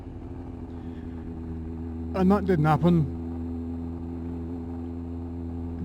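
Kawasaki ZX9R sports motorcycle engine running steadily at a constant drone while being ridden, with someone talking briefly over it midway.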